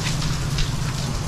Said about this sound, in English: the rain still coming down fairly steady